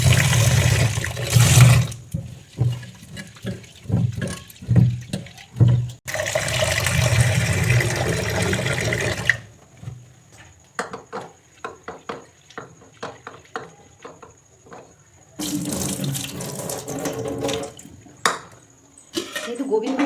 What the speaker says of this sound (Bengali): ডালগুলোও ধুয়ে নিলাম।